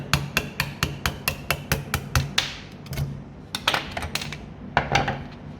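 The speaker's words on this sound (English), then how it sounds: "Next we want to punch out, our little pin that holds the gearbox and the receiver." A pin is punched out of the gearbox and receiver of a Falkor Defence gun, a rapid run of about a dozen sharp metallic hammer taps close up, then a brief pause and a few more scattered clinks.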